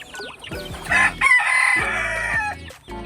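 Rhode Island chickens, a hen with her chicks, with a rooster crowing loudly and nearby alongside steady clucking and chick peeps, no talk.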